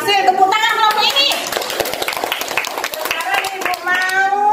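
Children clap for a group in a classroom, giving a burst of brisk, uneven handclaps that carries on throughout, with young voices calling out over it.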